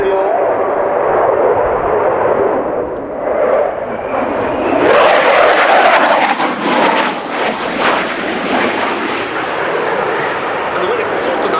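A Swedish Air Force JAS-39C Gripen jet passing in flight, a loud sustained engine roar that swells mid-way with crackling and hissing, heard under a commentator's talk.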